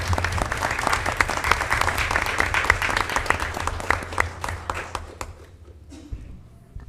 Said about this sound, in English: just another round of applause for all of our staff of the year